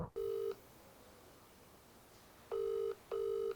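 A telephone call rings out on the line: three evenly pitched electronic ringback tones sound, one early and then two close together after a pause, clear and alone.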